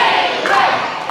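A wrestling crowd at a match between an English-born and an Irish-born wrestler roars and shouts in a loud, continuous wash of cheering, close and unbroken throughout.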